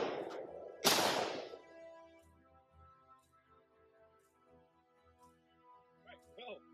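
Rifle fired through a muzzle device such as a SureFire Warden, three-prong flash hider or mil-spec birdcage. A sharp, loud outdoor shot cracks and rings out as it decays, with a faint earlier report and people talking afterward.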